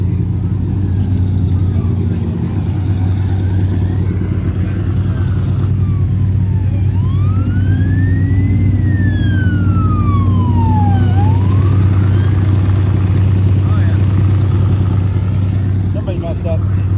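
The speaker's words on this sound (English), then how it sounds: "And here we go with the sirens already." A siren wails with a rising and falling tone at a distance at the Glamis dunes on Thanksgiving Day, over loud, steady engine rumble and background chatter.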